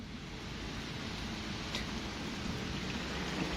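Steady rain falls outdoors at a lively Thai country music show, a continuous even hiss that fills the whole moment with no voices standing out.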